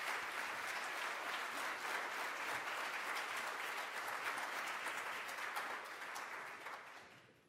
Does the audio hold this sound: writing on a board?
no